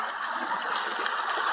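Water flowing in a small creek, a continuous close bright trickling and gurgling rush with no talk over it.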